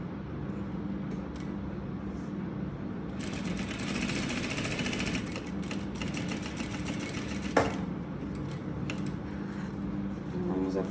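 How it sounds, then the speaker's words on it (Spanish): A sewing machine stitching a straight seam on folded fabric, its fast rattling needle run starting a few seconds in and continuing steadily with brief pauses, close up, with a voice talking over it. "Entonces le van a doblar muy poquito y van a pasar una costura recta."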